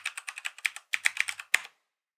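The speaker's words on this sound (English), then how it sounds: "so I'll type that in." Password being typed on a computer keyboard: a quick, even run of close, crisp key clicks, a brief pause, then a few more taps ending on a firmer keystroke, with no talking.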